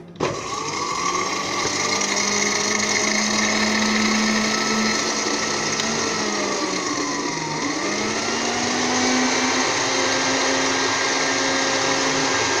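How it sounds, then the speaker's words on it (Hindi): A blender runs at full speed mixing egg, vinegar, salt and sugar, a loud steady whir that dips in pitch briefly midway, then climbs back and holds without voices. "चलिए इसे ब्लेंड करते हैं 1 मिनट के लिए।"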